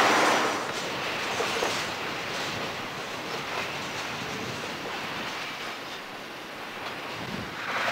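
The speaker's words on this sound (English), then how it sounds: "An eastbound Santa Fe freight led by an SD45 makes its way around the loop." An eastbound Santa Fe freight train led by an SD45 locomotive rounds the Tehachapi Loop, a continuous broad rumble of rolling cars with some wheel squeal and wind buffeting the microphone, heard without talking.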